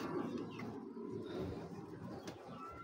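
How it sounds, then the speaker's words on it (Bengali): A Bezi pigeon coos in a steady low murmur, close and fairly quiet, with faint background noise and no talking. "এই যে বেজি কবুতর"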